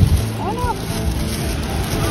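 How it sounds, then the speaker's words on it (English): Strong wind roars and buffets steadily over the ocean in Thailand during Loy Krathong, with water sloshing near a boat and faint voices underneath. "It's so windy."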